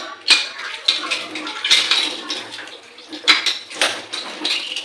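Dishes being washed under running tap water: plates and utensils clatter and knock in irregular bursts over a steady splash of water, close and fairly loud.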